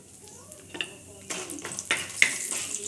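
Whole spices, dried red chilli, bay leaf, cardamom, clove, peppercorn and cinnamon, sizzle in hot oil as a spoon stirs and scrapes the pan in a few sharp close strokes, the frying gaining strength partway through.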